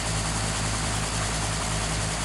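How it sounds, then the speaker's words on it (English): A helicopter engine in the GeoFS browser flight simulator drones steadily with a low, buzzing rotor hum, loud, continuous and unchanging, with no talk over it. "So I am crashing that helicopter."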